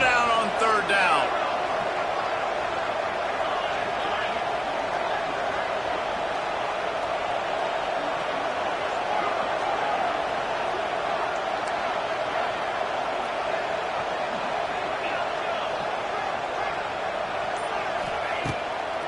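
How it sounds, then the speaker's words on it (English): A large stadium crowd at a Rutgers vs Arizona college football game keeps up a steady, dense roar throughout, rising to help the defense on third down, with an announcer talking over it. "The noise is this crowd doing everything they can to help the defense bear down on third down."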